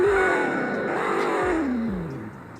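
A 2001 Ford Crown Victoria's V8 revs up close by, holding a raised droning pitch before the engine note slides back down toward idle near the end.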